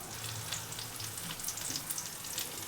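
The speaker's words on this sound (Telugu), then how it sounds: "ఇదిగోండి కాకరకాయ ఈ విధంగా ఏగిపోవాలండి" Bitter gourd pieces fry in hot oil with a steady, close sizzling hiss that runs without a break, and no voices are heard.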